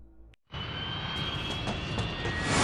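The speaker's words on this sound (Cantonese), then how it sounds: "有架飛機撞落嚟" In the video game Dead Rising, an airplane comes crashing down: after a brief silence a loud jet engine roar swells in and builds steadily, with a high whine running through it.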